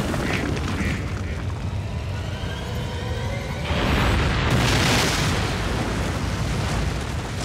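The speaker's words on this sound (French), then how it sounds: "L'explosion serait d'une puissance inimaginable." A deep, rumbling volcanic hyper-eruption explosion effect: a low sustained roar that swells into a heavier, louder blast midway, then keeps booming steadily.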